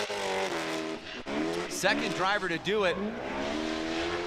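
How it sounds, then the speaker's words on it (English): A drift car in Formula Drift Pro Spec qualifying at Grantsville, Utah, in 2022 revs hard and struggles for grip, with rising and falling engine whine and tire squeal under a commentator's continuous talk. "you can really hear the car struggling"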